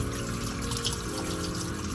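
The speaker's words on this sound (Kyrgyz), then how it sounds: "Алгач эле сөөктөрүбүздү жакшылап жууп алабыз." Soup bones for kholodets being washed under running water, a steady close stream and splash from a tap into a sink, continuous and moderately loud, with no talk.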